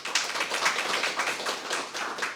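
Scattered applause from a small audience at a Gwangmyeong city policy briefing on the Sinansan Line accident investigation, uneven individual claps close by, fairly light and brief.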